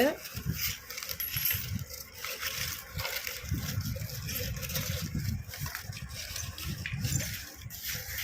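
Coins spilling from a child's Undiyal savings box tumble and clatter onto the floor, a busy, continuous metallic jingling and rattling that keeps going for several seconds at close range.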